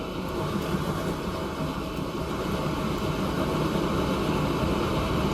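Steady rumbling clatter of a train rolling along the tracks in the video game Transport Fever 2, constant and fairly loud throughout with no pauses.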